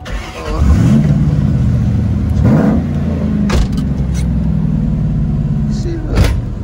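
Car engine revving and rising in pitch outside in the rain while drifting, fitted with a new drift steering wheel; loud, sustained throttle sweeps near the microphone, with people talking over it.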